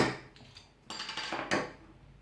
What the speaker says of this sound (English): So let's open this one up